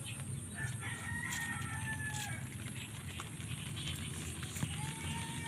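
A gamecock crows in a netted pen, its call fairly faint and drawn out over a steady outdoor background with soft clucking.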